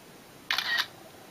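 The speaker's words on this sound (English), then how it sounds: "it flashes and you hear the camera shutter" Simulated camera shutter click on an iPhone 4 as a screenshot is taken, a single crisp double-click burst heard alone against quiet room tone.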